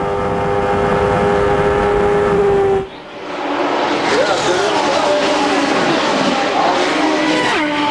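Onboard ride with Nigel Mansell in an Indy race car at the 1993 Indianapolis 500, the engine screaming at a high steady pitch, a sharp lift, then a rising howl as it revs back up, loud and close throughout.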